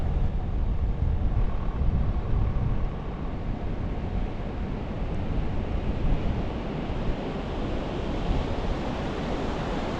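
Rapids rush on the Deschutes River in Oregon, a loud, dense, continuous roar of churning whitewater with steady wind-like noise and no talking.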